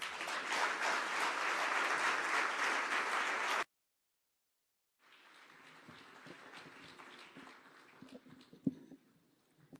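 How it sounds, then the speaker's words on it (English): A large audience at the commissioning of an export processing zone in Mavoko, Machakos County stands and applauds loudly. Dense, sustained clapping fills the first few seconds, breaks off into silence, then returns as softer, scattered clapping that fades out. "May we be up and standing with a loud applause"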